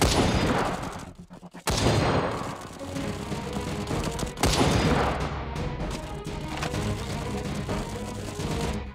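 Dense, continuous gunfire from the mobile shooter game Cover Fire, with rapid overlapping shots and crashing impacts filling the whole stretch and a brief lull near the start before the barrage resumes.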